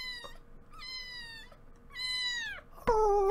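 A cat gives several drawn-out, wailing meows in a row, close and clear, with short gaps between them and a sharper, louder cry at the end.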